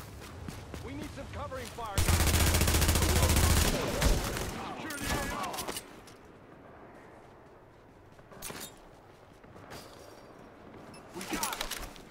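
Turret gunfire in The Division, a loud sustained automatic burst lasting nearly two seconds, followed by scattered shots and quieter combat noise, with voices talking through it.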